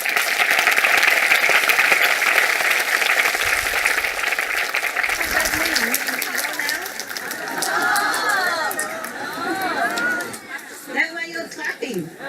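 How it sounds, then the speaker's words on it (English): Audience applause at a Buddhist dharma talk on the Surangama Sutra, a dense wash of clapping that fades as murmuring chatter and voices take over. "That's why you're clapping."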